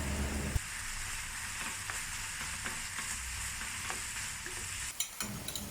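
Ground beef and onion fry in a pan for Hong Kong style beef rice. A continuous close sizzle runs under soft scraping stirs, with a few sharper clatters near the end and no talking.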